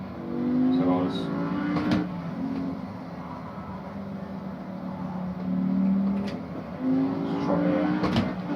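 Engine drone of a car in a racing video game played with a Logitech G920 steering wheel, rising and falling in pitch with steady throttle changes while a person talks over it.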